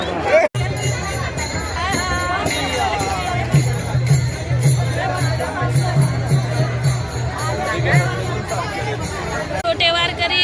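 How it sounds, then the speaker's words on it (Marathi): A dense crowd of devotees at the Sant Dnyaneshwar Maharaj palkhi procession fills the air with continuous babble and chatter, with nearby voices speaking over the crowd throughout. "माऊलीची लय गर्दी आहे, लय गर्दी लय गर्दी लय गर्दी"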